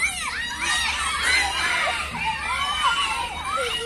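Riders on a spinning swing ride at a sunny fair shout and scream together in a steady, bright crowd din, with overlapping high excited voices throughout.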